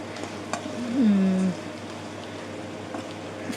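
Chicken fries quietly in a pan with a soft, steady sizzle and a brief squeaky tone partway through, with no speech.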